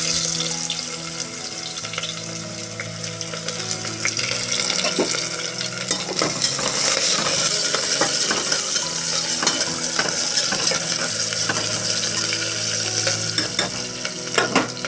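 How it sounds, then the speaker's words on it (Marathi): Onion fries in hot oil in a pot for a masale bhat, with a steady loud sizzle throughout and repeated clinks and scrapes of a spoon stirring against the metal. "त्यात आपण आता कांदा टाकूया"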